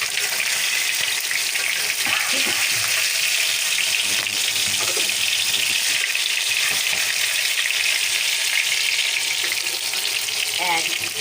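Watermelon rind frying in hot oil, a loud, dense and continuous crackling sizzle heard close up that holds steady throughout with no voices.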